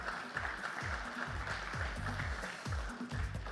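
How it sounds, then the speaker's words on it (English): Audience applause at a legal awards ceremony, a steady dense wash of many hands clapping for several seconds, with a low rhythmic thumping beneath it. "Please, a huge round of applause."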